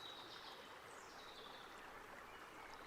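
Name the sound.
spring water trickling from stone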